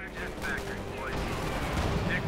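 Tank gunfire in the Company of Heroes 2 video game: rapid overlapping shots and explosions from Panther, Jackson and Pershing tanks with 90mm guns sound over a dense, continuous battle din.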